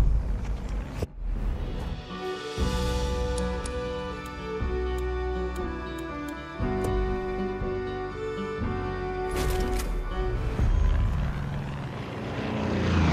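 Helicopter in the Far Cry 5 video game, a steady rotor and engine drone with a sustained tonal whine that holds across the whole stretch, fairly loud and close with no talking.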